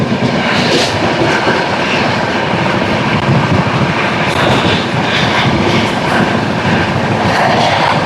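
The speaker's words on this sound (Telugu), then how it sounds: "ఇప్పుడు వెళ్ళింది కదా ఆ ట్రైన్ వచ్చేసరికి 22641." A train passes close by, a loud, sustained rumble and roar with rattling wheel and carriage noise that fills the whole stretch.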